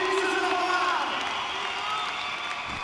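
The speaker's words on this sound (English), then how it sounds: "you can hear the applause that he receives from the home crowd" A home crowd at an indoor SuperEnduro race in Germany cheers and applauds the winner, a steady distant roar with whoops, while a commentator's voice talks over it.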